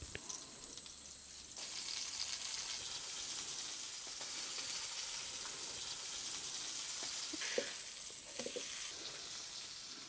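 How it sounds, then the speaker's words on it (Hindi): Pomfret fish frying in oil on an outdoor stove at a Konkan homestay, a steady close sizzle with occasional crackles and a few small clinks near the end. "हमारी फेवरेट फिश फ्राई बन रही थी बाहर चूल्हे पे"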